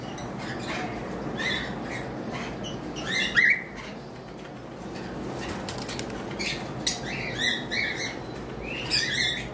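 Several black-eyed cream-face cockatiels call from a bird-shop veranda, giving scattered chirps and short squawks over a steady hiss of background noise with no talking.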